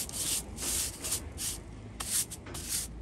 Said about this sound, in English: We just brush the loose off what we've scraped off there.